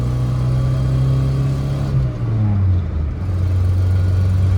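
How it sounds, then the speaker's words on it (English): Manual-transmission car engine held at a steady revving drone, then the pitch drops sharply at a quick gear change and settles at a new steady level, loud and close with no talk. "There's some race shifting for you."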